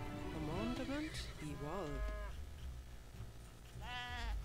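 Sheep in the video game Age of Empires 3 bleat several times, giving wavering nasal calls near the start, mid-clip and at the end over a steady game background.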